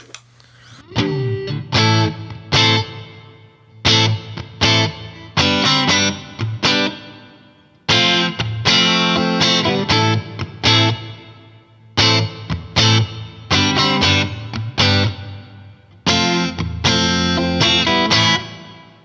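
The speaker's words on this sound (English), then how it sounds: "push this decay, which is our reverb time, all the way up to the maximum" Distorted electric guitar through a Line 6 POD Go room reverb, decay at the 10-second maximum, plays bursts of chords and riffs, each phrase followed by a long, washy reverb tail ringing out between the gaps.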